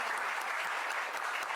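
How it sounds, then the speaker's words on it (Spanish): Seminar audience applauding steadily to welcome a speaker at an event on administrative responsibilities, a dense, even wash of many hands clapping at once, sustained without pause and with no voices over it. "Un fuerte aplauso"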